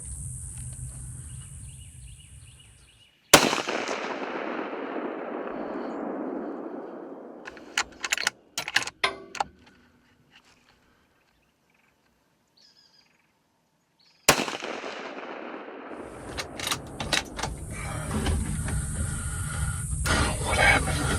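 Two sharp rifle shots ring out during a deer hunt, each a sudden loud crack followed by a long decaying echo, with rustling and handling noises in between and a stretch of near silence.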